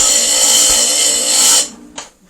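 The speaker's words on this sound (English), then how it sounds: "I'm seeing this area right here. I'll grind that." A glass grinder whirs steadily against the edge of a stained glass piece, a loud continuous high-pitched grinding that cuts off abruptly, leaving a brief faint tap and low hum.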